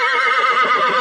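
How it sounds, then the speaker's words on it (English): A horse gives a short, close, loud whinny, a quavering high-pitched neigh lasting about a second with no voices over it. "Horse says, neigh,"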